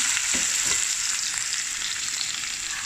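Chicken liver frying in a pan with onion and garlic, a constant bright sizzle with a few soft stirring scrapes, close and alone without speech.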